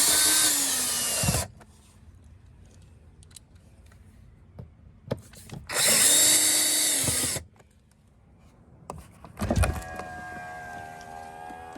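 A power drill drives the bottom screws into a Toyota Camry door panel during a window motor replacement, giving two loud, whining bursts of a second or more each, then a shorter burst near the end, with quiet clicks and handling noises between.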